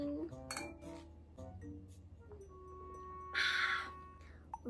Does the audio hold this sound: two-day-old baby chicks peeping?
no